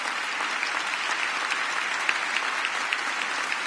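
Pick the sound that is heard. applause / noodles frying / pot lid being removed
applause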